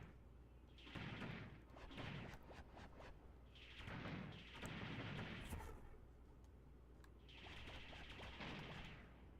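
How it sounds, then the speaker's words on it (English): Laser rifle bursts in The Plucky Squire, several quick crackling volleys of rapid zapping shots in separated clusters, fairly quiet against a low steady hum. "Fire laser rifle with the right."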